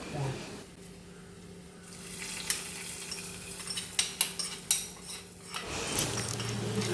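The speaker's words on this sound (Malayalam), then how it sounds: "അങ്ങനെ ഉള്ളി മൂപ്പിച്ചതും അതിലേക്ക് ഒഴിച്ചു" Fried onions are tipped into a roasted coconut curry of ridge gourd in a pan, giving a soft sizzle with scattered metal spoon clinks and scraping against the pot, with a steady hum underneath.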